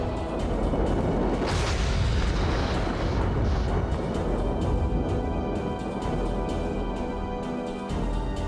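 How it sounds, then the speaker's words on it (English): A deep rumbling boom swells as cruise missiles are shot down in the Front Mission 4 mecha game, followed by a long dense roar of battle noise. "Oh, they shot their cruise missiles down."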